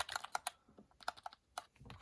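Keys clacking on a Geodmaer 65% gaming keyboard, a quick irregular run of sharp close-up taps with short pauses, heard alone.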